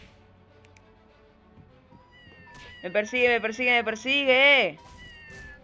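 Cats meow in Scribblenauts Unmasked, a run of loud, drawn-out, wavering cries that close together over a few seconds, following a spoken voice.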